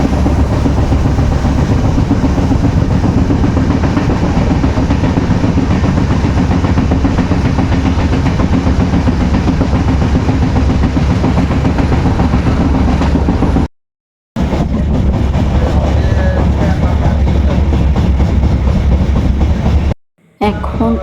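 A train to Bardhaman rumbling loudly along the tracks, heard from inside the ladies' compartment, with a continuous heavy roar and faint rhythmic clatter, briefly cutting out twice near the end.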